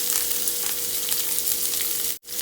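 Onion and curry leaves frying for ragi upma with dried red chillies, a steady close sizzle that holds evenly before cutting off sharply near the end; no one speaks.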